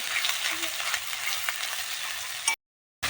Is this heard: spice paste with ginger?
yes